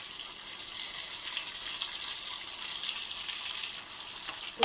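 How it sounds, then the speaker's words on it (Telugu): Chopped onion pieces fry in hot oil, giving a steady, even hiss and crackle that runs unbroken at close range with no voices. "కలర్ చేంజ్ అయ్యేదాకా నూనెలో బాగా వేయించుకోవాలి"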